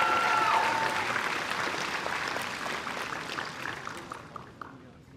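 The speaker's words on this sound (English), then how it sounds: "Let's give her a round of applause." Graduation ceremony audience applauding for a student speaker, a dense, loud wash of clapping that gradually thins and fades over about five seconds.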